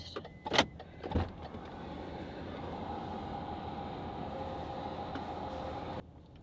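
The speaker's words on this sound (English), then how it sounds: "Unlock the car first." A car in a wintry grocery store parking lot gives two sharp unlocking clicks close by, the first with a short chirp, then a steady low drone runs for several seconds before stopping.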